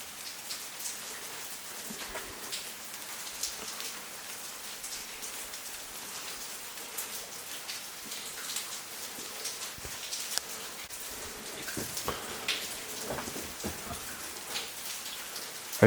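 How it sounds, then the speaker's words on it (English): Heavy rain pours down steadily inside what looks like an old shaft with asbestos duct line, a soft continuous hiss with scattered closer drips and taps, fairly faint and without speech. "I hear it raining."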